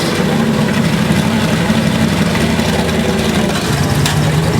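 An engine runs steadily through a Dynomax muffler with a loud, even low rumble and a constant exhaust roar. The sound stays close and unbroken for the whole stretch, with no talk over it.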